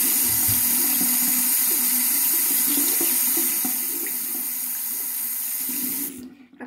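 Tap water runs steadily from a faucet while a makeup brush is rinsed under it, a continuous close hiss with slight splashy variation that drops off abruptly near the end as the flow stops.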